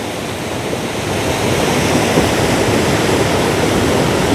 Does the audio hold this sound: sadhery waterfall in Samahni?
yes